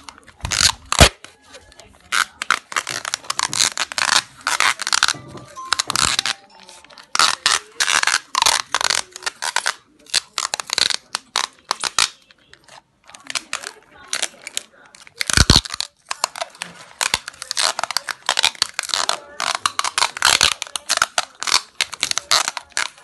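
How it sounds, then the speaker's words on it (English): Tape being pulled off a roll and wrapped around a cardboard relay baton, a long run of loud scratchy rips and crinkles in quick irregular bursts with brief pauses, close by. "the only thing you're going to do after is to use a tape to close it"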